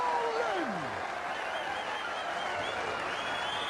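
A darts World Championship crowd stands and applauds after a nine-dart finish, a steady roar of clapping and cheering from a large arena. A commentator's voice runs over the noise.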